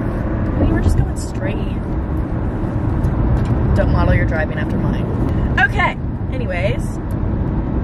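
A car drives straight down a highway, its steady road and engine rumble loud and close throughout while someone talks over it inside the cabin.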